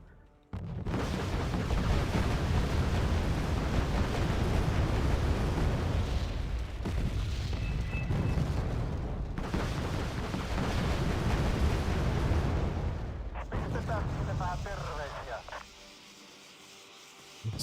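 Mortar fire and explosions from the war game Wargame Red Dragon, a dense, continuous roar of blasts and rumbling booms lasting many seconds before tailing off, with voices faintly underneath.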